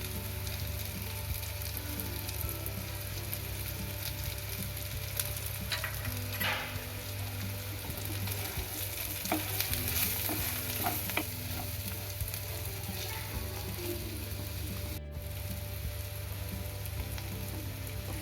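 Stuffed bitter gourds fry crisply in oil while peanut powder is stirred in, a constant close sizzle with scattered scraping and stirring clicks throughout.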